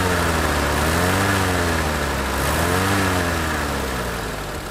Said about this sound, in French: si j'accélère et que je monte dans les tours